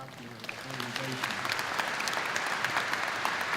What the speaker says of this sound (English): So I want a round of applause for the staff of the organization.